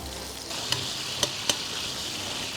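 Anchovies dissolving in hot olive oil for a vegetable pasta, giving a steady close sizzle with a few sharp utensil clicks, one of them near the start and two close together later, and no talk.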